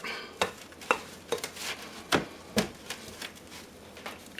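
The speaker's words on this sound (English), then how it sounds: "You mix this until it's blended" Peppermint scone dough being mixed by hand in a bowl, giving irregular sharp scraping and knocking strokes of spoon against the bowl, close and clear with short pauses between.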